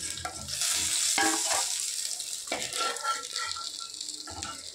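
Fish head pieces frying crisp in hot oil in a pan, a bright continuous sizzle with crackling bursts and occasional stirring or turning sounds, close up with no talking.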